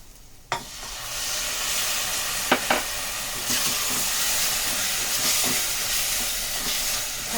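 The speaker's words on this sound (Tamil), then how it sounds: "தக்காளியும் கொஞ்சம் நல்லா வதங்கணும்." Tomatoes sauté in a pan for egg curry, giving a loud, steady sizzle and hiss that fills the whole stretch, broken by a few scraping stirs of a utensil.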